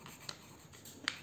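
Faint pen strokes scratch across a paper worksheet, with two brief sharper scrapes standing out against a quiet room.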